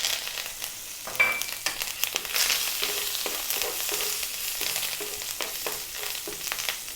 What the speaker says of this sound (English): In goes the curry leaves, which sometimes can be quite loud.